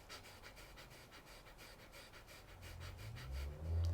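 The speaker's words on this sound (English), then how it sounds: "aim for 3 to 4 breaths per second" Rapid, forceful breathing exercise at roughly three to four breaths per second, a steady run of sharp close-up breaths that grows louder toward the end, with no talking.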